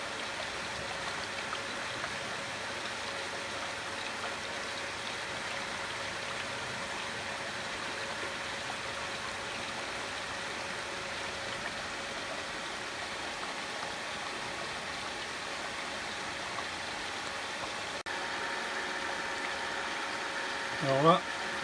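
A pool filtration pump runs, circulating and mixing salt dissolved in the water, with a steady watery rushing hum throughout and a brief clatter near the end.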